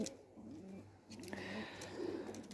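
Pigeons coo softly in a short sequence of low, rounded calls, close by, with some faint clatter and rustling in the background.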